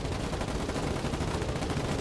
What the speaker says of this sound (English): Slow push up, machine gunner, just start laying into any green thing you see.